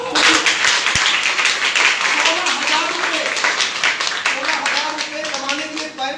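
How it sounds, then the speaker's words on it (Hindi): A seminar audience at a corporate training program breaks into applause, with scattered clapping running beneath a man's loud, continuous speech. "ताली जोरदार"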